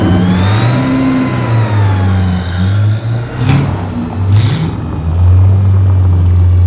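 A sports car engine revs hard under a film score, its pitch sweeping up and down through repeated throttle blips with loud rumbling, and a whoosh passes midway.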